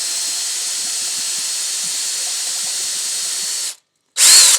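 A power drill bores a mortise hole into wood, a loud, steady high whine with a faint hiss that stops briefly and then starts up again.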